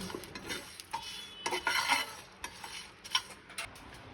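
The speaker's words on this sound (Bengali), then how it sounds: "এবার এটা একটা ড্রাই রোস্ট করছে।" Spices dry roasting in a pan for mutton kosha, quiet intermittent scraping and rustling of a spatula stirring them, close and fairly faint, with light clinks.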